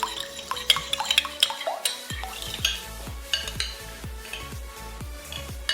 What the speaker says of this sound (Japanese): しっかりと冷やしておいたアングレーズ、ちょっとね、意外と固まってたんでスプーンを使ってほぐしています。